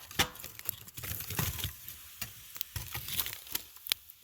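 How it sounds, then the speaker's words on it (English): Hot coals are raked out of a wood-fired clay oven at an off-grid cabin on a freezing night, with a run of scraping, crackling strokes and soft clatters heard close and alone. "I'm just going to rake out the coals."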